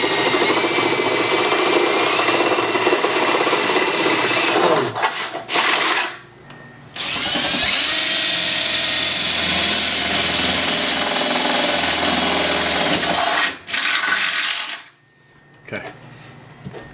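A power drill bores a pilot hole for rivet nuts while rock sliders are being fitted, two long, loud, steady runs close by, broken by a brief stop and ending with a short final burst.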